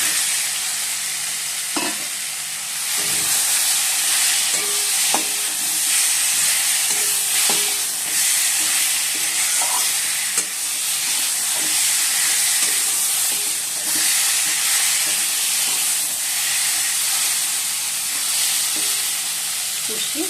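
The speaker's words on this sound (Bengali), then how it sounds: "এদিকে মশলাটা কষাচ্ছি।" Spice paste sizzles and fries in a pan in a home kitchen, a loud, continuous hiss broken by repeated scraping stirs of a spatula throughout.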